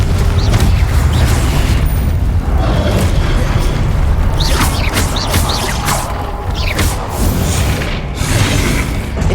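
Confringo fire-spell blasts in Hogwarts Legacy: loud, booming explosions and crashing impacts roll on continuously, with layered bursts and rumble filling the whole stretch.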